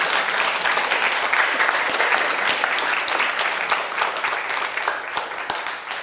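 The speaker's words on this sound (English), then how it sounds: "Can you clap louder for Baba?" An audience claps and applauds for Baba at a devotional gathering, a dense, steady wash of hands from many people sustained throughout without pause.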